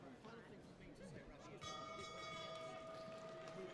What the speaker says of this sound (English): That's the bell for the end of the 6th round, end of the fight as well.